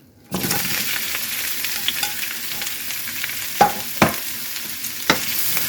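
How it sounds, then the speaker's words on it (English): Peppers and onions hit hot oil in a pan and sizzle loudly and steadily. A few sharp spatula knocks and stirs cut through the frying. "now we are going to cook our peppers and onions"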